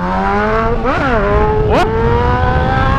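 A Honda CB1000 motorcycle roars loudly and close as it accelerates through the gears during a wheelie, engine pitch climbing then dropping with a quick upshift and climbing again, continuous and dominant.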